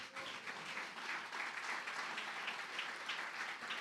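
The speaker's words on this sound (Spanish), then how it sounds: "Démosle ese aplauso al Señor." A church congregation applauds the Lord during a sermon, steady sustained clapping from many hands at moderate distance, without talk over it.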